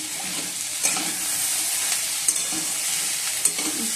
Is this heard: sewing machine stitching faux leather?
no